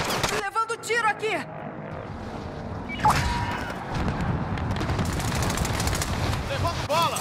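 Call of Duty: Modern Warfare gunfire: rapid, continuous bursts that fill most of the stretch under a dense game soundscape, with a sharp blast partway through and voices talking.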